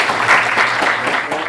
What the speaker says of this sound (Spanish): brindémosle un aplauso a Felipe para que podamos partir